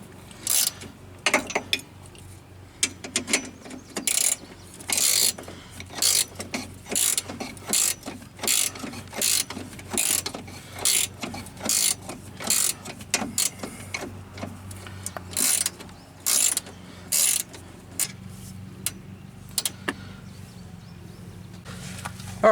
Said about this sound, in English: We got to take a bolt off up in there.